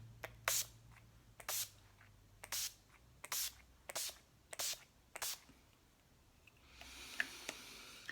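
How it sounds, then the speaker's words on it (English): Makeup setting spray misted onto a face, about eight short sharp pump bursts in a fairly even rhythm, close and crisp, followed by quieter rustling. "I gotta have my setting spray just in case"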